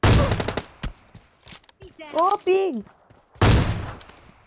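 Gunfire from an AWM sniper rifle in the mobile battle royale game PUBG Lite: two sharp, loud shots about three seconds apart, close and punchy, with a voice speaking briefly between them.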